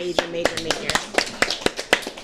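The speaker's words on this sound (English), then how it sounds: "So, round of applause to them." A few people clap on a talk show, sparse distinct hand claps in an irregular rhythm, close and fairly loud, with a voice talking underneath at the start.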